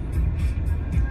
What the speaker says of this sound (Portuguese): é muito bom andar de carro aqui